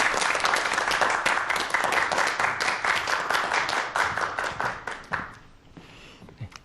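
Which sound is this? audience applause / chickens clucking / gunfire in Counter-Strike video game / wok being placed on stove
audience applause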